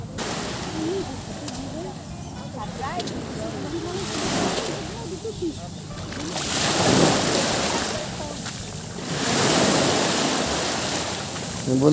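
Morning sea waves wash onto a beach in slow, loud surges, one building after another, with wind noise on the microphone and faint voices in the background.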